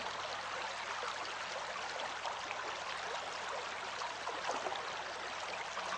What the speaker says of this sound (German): Ich höre Wasser plätschern.